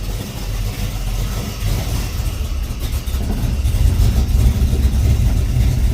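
A Ford Falcon XB GS Hardtop idles with a chunky, lumpy engine note: a steady low rumble close by that swells slightly louder partway through, with no talking.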